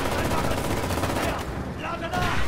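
Machine gun fire in the WWII shooter Enlisted, dense rapid bursts rattling nearly continuously over loud game noise, with a brief dip before the firing surges again.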